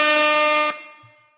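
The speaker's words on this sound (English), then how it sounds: "let's get some air horns for the Locked On Steelers podcast." A single loud, sustained blast from an air horn sound effect, held for under a second and then cut off, leaving a brief fading tail.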